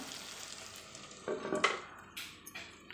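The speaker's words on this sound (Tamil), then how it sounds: "மீடியம் ஃப்ளேமில் வச்சு நம்ம இந்த கத்திரிக்காயை நல்லா வதக்கி எடுத்துக்கலாம்" Brinjal (eggplant) sautéing in a pan over a medium flame, with soft stirring and faint scraping that swell into a brief louder burst of clatter near the middle, then a few lighter stirs, heard up close with no talking.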